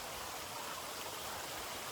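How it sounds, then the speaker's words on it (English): Water rushes down a small waterfall at the headwaters on Mt. Cheaha, a steady, close hiss of falling and splashing water that stays even throughout, with no voices. "we found a bit of the waterfall. So right there, it begins its descent down to the lake,"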